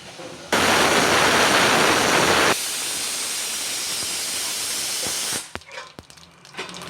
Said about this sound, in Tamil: கடுகு போட்டாச்சு. கடுகு நல்லா பொரியுது.